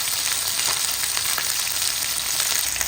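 Garlic and ginger sauté with chicken pieces for adobo, making a loud, dense, continuous sizzle close by with faint stirring beneath and no speech.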